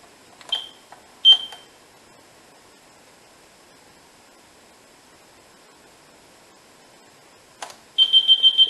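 A Finsecur Type 2 fire alarm control panel restarts with two short electronic beeps, a pause, then a rapid run of repeated beeps near the end, close and clear in a quiet room.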